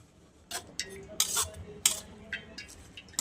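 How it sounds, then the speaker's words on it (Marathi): Cooked drumstick juice is poured through a metal strainer: scattered close metallic clinks and scrapes of the strainer against a vessel, with soft splashing in between. "पण त्या गाळणीत टाकून गाळून घेऊयात आपण हा रस सगळा."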